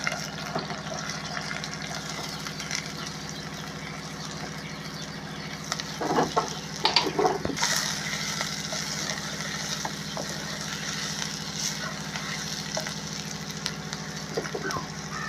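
Six medium-sized onions frying in a pan for an egg and drumstick curry make a faint, steady sizzle over a constant low hum, with a short burst of clattering stirring in the middle.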